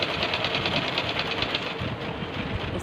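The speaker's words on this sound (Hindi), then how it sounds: "यहाँ से हम सिलाई लगाना शुरू करेंगे। सिलाई से सिलाई मिला के गले पर सिलाई करेंगे।" A sewing machine runs steadily, stitching the shoulder seams and neckline of a suit, with a continuous rapid mechanical whir and no talk.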